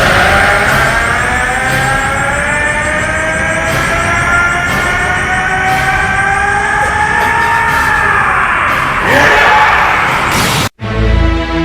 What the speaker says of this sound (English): Black went and he screamed.